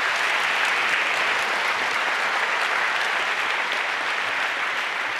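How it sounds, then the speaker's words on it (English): Conference audience at the 30C3 hacker congress applauding a speaker, a dense, steady wash of clapping from a large crowd that holds at full strength without a break. "Please give a warm round of applause to FX."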